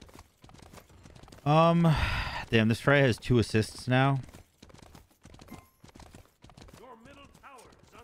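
A horse's hooves clip-clop steadily in the SMITE video game, with Lancelot riding his mount back toward the lane. The hoofbeats sit quietly beneath someone speaking loudly over them.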